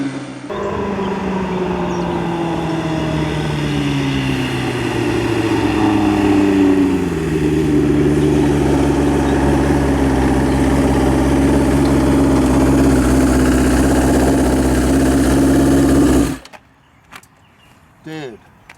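A street-legal drag motorcycle engine idles loudly and steadily, its pitch dipping and shifting as the throttle changes, then cuts off abruptly near the end.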